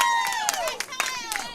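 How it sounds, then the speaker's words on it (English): Spectators at a junior team bowling championship cheer and clap, with high whoops and shouts over scattered sharp claps in a short, lively burst. "The crowd goes wild."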